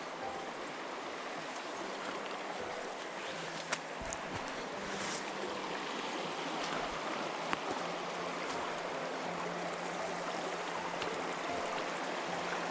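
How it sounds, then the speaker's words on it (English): A river on the Little Brier Gap Trail rushes in a steady, full broadband wash of flowing water, close and unbroken throughout, with a couple of faint knocks. "I'm just going to get some shots of this river."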